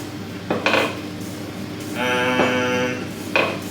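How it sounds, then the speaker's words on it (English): A fork pricks holes in potatoes before microwaving: a few sharp, close metallic clicks and taps, with a brief scraping stretch between them. "I like to poke holes in my potatoes"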